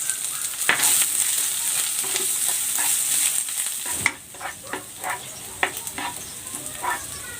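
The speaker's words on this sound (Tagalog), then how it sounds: "Igigisa ko na tong bawang." Garlic and onion sauté in hot cooking oil for a pancit, a steady close sizzle broken by repeated scraping stirs and clicks of a utensil, growing sparser and more intermittent in the second half.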